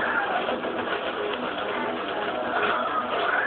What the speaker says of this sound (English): No, we only have happy birds here.